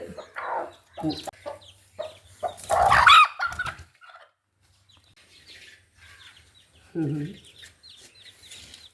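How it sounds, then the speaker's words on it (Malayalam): Hens cluck and squawk in short bursts nearby, with a flurry of wing flapping in the middle and quiet pauses between calls. "കോഴികളൊക്കെ സംരക്ഷിച്ച് തീറ്റ കൊടുത്ത്"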